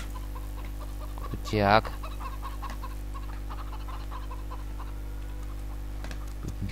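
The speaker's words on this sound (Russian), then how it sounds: "А вы мои курочки. А вот мой петух." A single short chicken cluck rises briefly in Farming Simulator 2015, over a steady low hum of game ambience, with someone speaking Russian softly around it.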